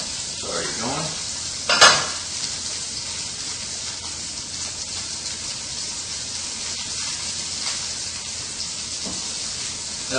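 Lamb chops sizzle in a pan preheated over medium heat, a steady, close frying hiss with a brief louder clatter early on.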